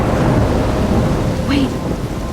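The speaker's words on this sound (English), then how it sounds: "I'm trapped in a storm?" Thunderstorm with steady rain in the video game Life Is Strange, a continuous dense rumble of downpour with rolling thunder, heard alone and fairly loud.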